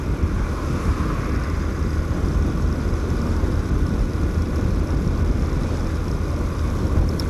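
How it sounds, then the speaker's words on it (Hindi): Strong wind roars around a vehicle moving along a highway, a dense, steady low rumble with gusty buffeting that holds at a constant loud level throughout. "हवाएं गाइस बहुत ही ज़्यादा तेज़ चल रही है आजकल"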